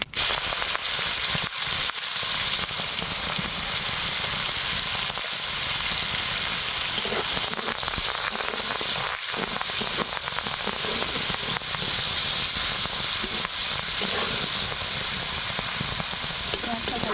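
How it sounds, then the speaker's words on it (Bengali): Onion hitting hot oil already seasoned with cloves and cinnamon sticks, a loud, steady, dense sizzle with crackling pops that holds unbroken for the whole stretch, close and alone with no voice over it. "এবার আমি পেঁয়াজটা দিয়ে দেবো"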